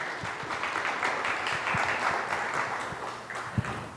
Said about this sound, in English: if we could all give a round of applause for the organizers and volunteers running this event